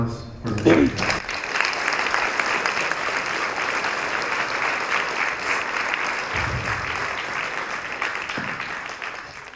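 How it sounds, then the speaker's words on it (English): Audience applause greets a speaker at a school talk on addiction, a steady broadband clatter of many hands clapping that begins after a brief voice and continues evenly to the end. "Round of applause for the"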